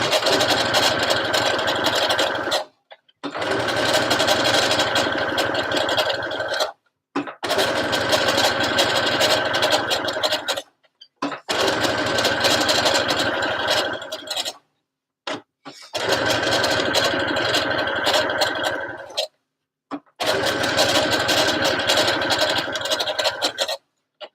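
A sewing machine stitches a Wild West party dress in six steady motorized runs of about three seconds each, separated by brief silent pauses, close and fairly loud with no talking.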